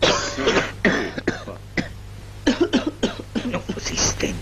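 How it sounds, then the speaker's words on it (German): A person coughs repeatedly in short, harsh bursts, close and loud, with a few throat-clearing sounds mixed in over a steady low hum. "Hust mich doch nicht an."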